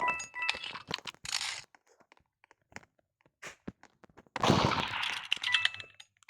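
Gunshots in a video game: bursts of rapid fire at the start and again near the end, with scattered single shots and clinks in the quieter middle stretch, and no voices.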